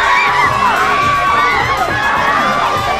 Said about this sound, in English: At Leicester Square, the crowds are out in mass to get a glimpse of the celebs.